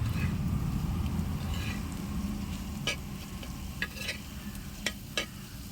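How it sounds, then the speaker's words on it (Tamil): Rice being mixed by hand with a spicy prawn tawa fry and fish curry in a village kitchen, soft squelching and scraping over a steady low rumble, with a few sharp clicks. "ஸோ சாப்பாடு, இறால் வறுவல் லைட்டாக ஒரு மிக்ஸ் பண்ணிட்டு பார்ப்போம்."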